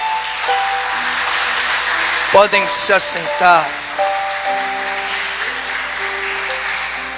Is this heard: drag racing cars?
no